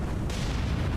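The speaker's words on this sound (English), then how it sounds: "Second contact was classed as Fubuki and she is taking fire." Heavy naval shells strike a Fubuki-class destroyer in War on the Sea, a dense, rumbling burst of impacts in one continuous booming wash over about a second.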